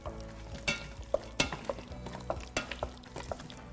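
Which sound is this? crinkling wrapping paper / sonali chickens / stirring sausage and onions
stirring sausage and onions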